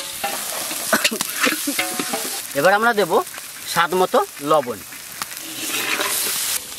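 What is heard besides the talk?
frying spices with stirring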